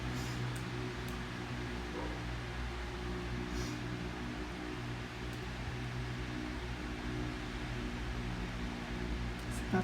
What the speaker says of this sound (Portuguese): Eu estou com o ventilador ligado aqui. Tá ruim o som, tá ruim de ouvir, tá ouvindo o barulho do ventilador.